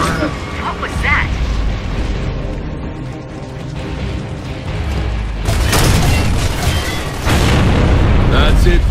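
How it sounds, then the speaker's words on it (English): Mortar rounds explode in a Gears of War Judgment battle, heavy booming blasts that rumble with deep low-end weight, growing louder and denser toward the end, with voices shouting over them. "Mortars! The grubs are gonna flatten that house if we don't stop them."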